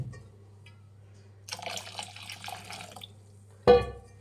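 Water is poured into a pot of massoppu greens sambar in a short trickling stream lasting about a second and a half, followed by a sharper splash, over a low kitchen hum.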